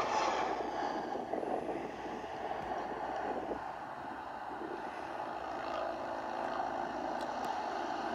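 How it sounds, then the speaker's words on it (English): A low engine rumble with broadband roar from a motorcycle and an airplane passing at a distance at the same time, swelling and fading slightly over several seconds. "Oh, that's a motorcycle and a plane."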